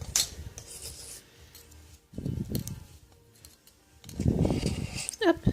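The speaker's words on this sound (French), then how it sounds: "un petit coup de lame pour tout décoller" A blade scrapes polymer clay loose from a work surface while making mica-shift earrings, giving short rasping strokes in two bursts separated by quieter pauses.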